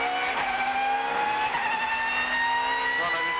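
A front-wheel-drive Vauxhall Vectra touring car races at Winton in the 1999 Australian Super Touring Championship. Its engine holds a loud, sustained, strained whine that shifts slightly in pitch, with other race cars close by.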